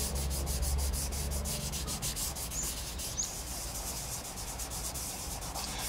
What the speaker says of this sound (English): And you really need to like go in and rub it. I rub it quite hard